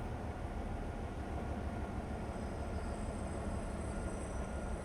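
A train in the railway simulator Train Life runs with a steady, continuous rumbling roar and a faint high whine, with no distinct brake squeal standing out.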